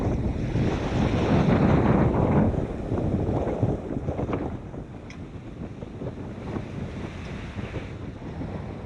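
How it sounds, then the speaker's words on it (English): Wind of 17 to 20 knots and waves around a sailboat on the North Sea in late fall, a steady roar of gusts buffeting the microphone and water sloshing against the hull, loudest early then easing slightly, with no talking. "17 to 20 knots of wind."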